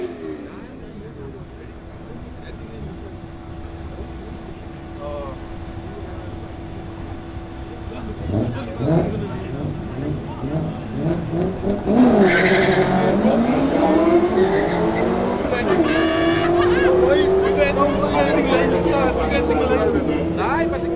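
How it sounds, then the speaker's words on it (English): Volkswagen Golf doing a burnout at a Killarney drag strip, its engine rising to a loud rev as the tires break loose and squeal in a harsh skid for several seconds, with crowd and commentary voices underneath. "He's going to do a burnout"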